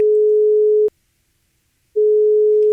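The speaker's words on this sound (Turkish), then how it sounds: "Aa telefon çalıyor galiba ihbar geldi ya." A telephone rings in Minecraft with a clean, steady electronic tone. It holds for almost a second, drops into about a second of silence, then starts again for a second pulse.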